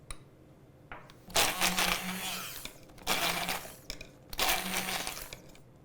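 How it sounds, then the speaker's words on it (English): Immersion blender whirring through cooked kale stems and olive oil in a small container, three loud bursts of a few seconds each separated by short pauses, close by. "So if you're using an immersion blender like this, you might want to get your stems in a smaller container to help keep everything together."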